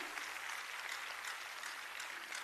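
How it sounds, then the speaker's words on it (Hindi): A crowd applauds steadily at a university event in Lucknow, a dense wash of clapping at a fairly faint level from start to finish. "एक बार जोरदार तालियों के साथ स्वागत।"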